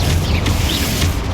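Confringo explosive spell cast in Hogwarts Legacy, a loud, dense rumbling blast with crackling debris that fills the whole short moment, two brief bursts standing out within a constant roar.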